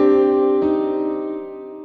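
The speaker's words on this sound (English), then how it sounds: "you can use a sus2 which just moves it one interval below that middle note" A sustained sus2 chord rings out on a keyboard or synth with steady harmonic tones, a slight re-articulation partway through, then slowly fades, alone with no talking.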